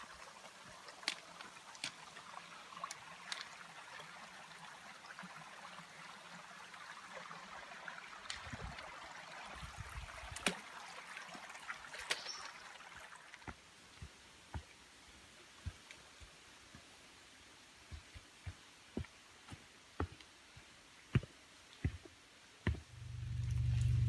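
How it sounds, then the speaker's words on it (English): A creek on the Appalachian Trail in Virginia gives a faint, steady wash of flowing water. Scattered soft clicks and footstep-like knocks come through it, and a louder thump is heard at the very end. "I just arrived at Curry Creek."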